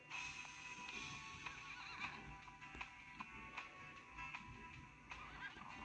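A horse in the Roblox game Wild Horse Islands neighs and whinnies repeatedly, close and clear, with soft clip-clop hoofbeats and a steady game ambience underneath.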